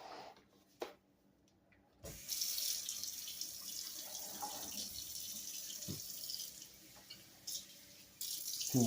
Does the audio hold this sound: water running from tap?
yes